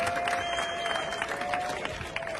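An outdoor audience at a local football tournament event in Bechar claps warmly, a dense even patter of applause sustained throughout with a steady tone running beneath it.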